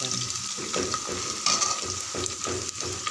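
Onions sautéing in a pan until reddish-brown, a steady sizzle with regular stirring scrapes at a brisk rhythm, close-up with no voices.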